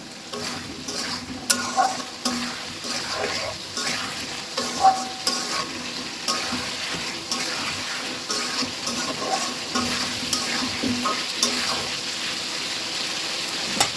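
Potatoes being sautéed with spices in a pan give a continuous moderate sizzle, with frequent scraping and stirring strokes against the pan throughout.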